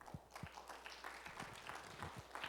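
Church congregation applauding during a sermon, scattered, faint clapping in a reverberant room with a few sharper individual claps standing out over a soft, steady patter.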